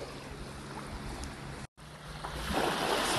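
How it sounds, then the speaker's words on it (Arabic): Baltic Sea waves on a beach, a soft, steady wash of water with wind, briefly cut by a gap before a louder surge of surf rises near the end. "اسمعوا صوت البحر،"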